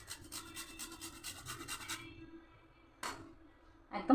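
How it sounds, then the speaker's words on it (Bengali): Whole nutmeg grated over a sweet modak filling: a quick run of close, rhythmic rasping strokes, then a pause and a single further scrape, with a faint rustle at the end. "সামান্য একটু জায়ফল আমি ঘষে দেবো।"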